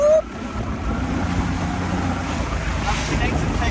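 A boat motors across the sea on a tour around the eastern side of Kythera island, giving a steady rush of engine, water and wind noise throughout, with no talking.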